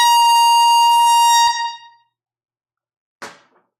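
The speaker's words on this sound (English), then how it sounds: "we bring out our air horn for the first time this week." A loud air horn sounds at a live vinyl record sale: one long, sustained blast of about one and a half seconds, then silence and a short faint clatter.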